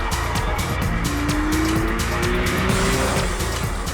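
Tires of a Porsche 911 sports car squeal steadily as the back end slides on a track, a loud sustained screech over a continuous engine roar; no one speaks.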